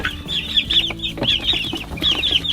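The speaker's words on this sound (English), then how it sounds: "We've got our new chickens in there." Several hens cluck and murmur in short, overlapping calls, fairly close, with steady low farmyard rumble underneath.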